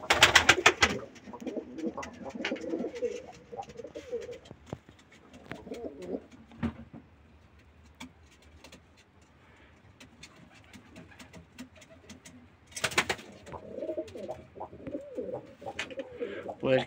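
Dumanlı kirli pigeons, a Turkish breed, coo in low, throaty bursts at close range, with a loud flurry near the start and again near the end, softer murmuring coos in between.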